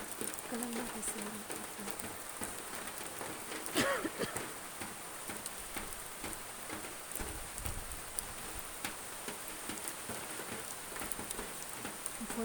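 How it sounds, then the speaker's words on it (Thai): Rain falls with wind in a continuous, fairly faint broadband patter and hiss, with a few louder gusts and splashes, and a voice speaks now and then. "ฝนตกทั้งลมเนาะ"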